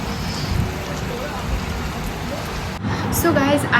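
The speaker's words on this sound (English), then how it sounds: "It has started raining" Steady rain falls on surfaces outdoors during a lunch stop in cold weather, a dense continuous hiss, joined near the end by people talking close by.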